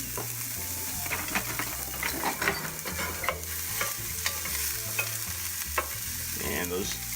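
Chopped celery, followed by onion, sautéing steadily in a pan, a continuous soft sizzle under a low rhythmic hum from the kitchen.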